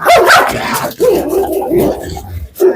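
A dog barks and yips several times close by, with short sharp bursts spread across the clip and some voice-like sound mixed in.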